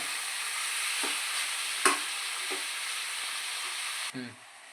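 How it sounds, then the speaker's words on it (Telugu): Chicken for an Andhra-style chicken curry sizzles steadily in a pan over low heat, with a few scraping stirs of a spoon and a louder clunk near the end. "ఇప్పుడు సిమ్లో పెట్టుకొని ఆ చికెన్ కొంచెం వేగే వరకు కలుపుతూ ఉంచుకొని ఉండాలండి"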